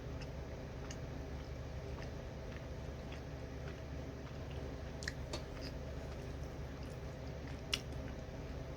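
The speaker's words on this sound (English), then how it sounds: "Once I chew it up enough, I get the flavor of it." Slices of Gourmet Grove mango being chewed close up, soft wet squishing and faint clicks repeating steadily over a low room hum, with no talking.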